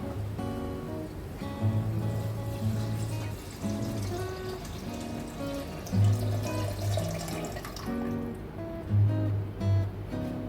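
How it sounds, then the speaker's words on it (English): Mutton stock is poured into a biryani pot in a hotel kitchen, a soft, steady liquid splashing and trickling that runs for several seconds under quiet background music. "Next, we are going to add mutton stock."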